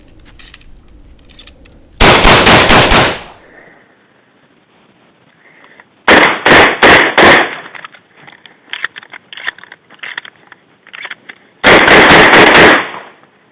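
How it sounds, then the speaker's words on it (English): A Benelli M1 Super 90 shotgun fired outdoors in three loud, rapid strings of shots, each a tight cluster of blasts separated by pauses filled with faint echo and rustling. "That is the devastating firepower of the Benelli M1 Super 90."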